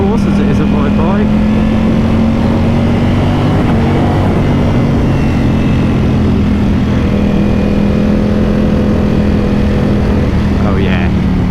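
A 2018 Ducati Panigale V4S engine drones steadily while the motorcycle is ridden, a loud continuous tone shifting slightly in pitch as the throttle changes, with wind rush throughout.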